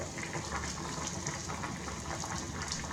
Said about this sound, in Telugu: ఇలా కట్ చేసిన తర్వాత వాటర్ వేసి స్టవ్ మీద పెట్టి ఒక 10 నిమిషాలు ఉడికించండి